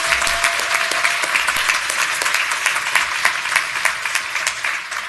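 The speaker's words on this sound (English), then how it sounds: "So, Sage and Intuit, big, big, big round of applause." Conference audience applauding the sponsors Sage and Intuit, a full, steady wash of many hands clapping that holds at even loudness throughout.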